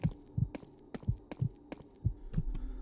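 A monster hums in The Mimic video game as a low, throbbing pulse of soft thumps repeating roughly every half second, faint and steady, under a quiet droning background.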